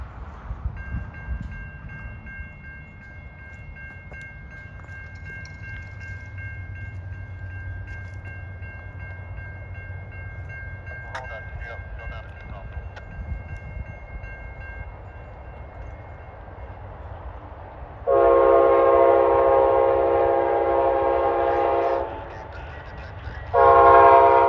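An Amtrak train passes in Loftman, Florida, with a steady rumble and a faint tonal whistle early on, then two loud, sustained horn blasts close by near the end.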